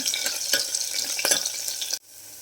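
Finely chopped garlic and raw ginger frying in a pan, a bright crackling sizzle with a few stir scrapes, close and steady, cutting off abruptly near the end.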